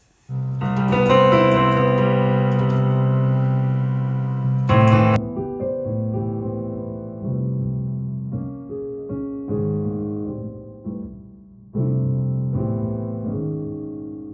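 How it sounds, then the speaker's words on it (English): Piano chords and notes played at a slow pace, heard without a hearing aid, sustained tones that sound muffled and dull, with several distinct attacks and no talking. "this is how it sounds when I play my piano"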